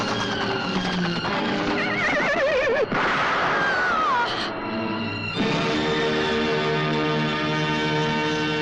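A riderless horse whinnies loudly in a wavering, rising neigh amid a dense dramatic soundtrack of music and effects, with a second whinny shortly after and a faint bell-like ring.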